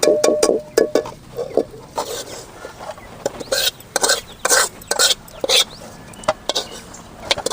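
Dried fish roasting in a pan, scraped and stirred in irregular bursts of scratchy, clattering strokes with soft sizzling underneath, close and fairly loud.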